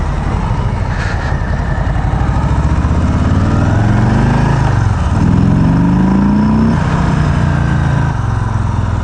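A motorcycle on its stock exhaust being ridden, the engine loud and close, droning steadily with rising and falling revs as it accelerates and eases off.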